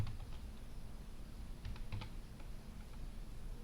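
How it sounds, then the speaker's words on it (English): Quick keystrokes tapped on a computer keyboard while entering code, a run of light clicks clustered into short bursts, fairly close and alone over a faint steady background hiss. "So we type connect"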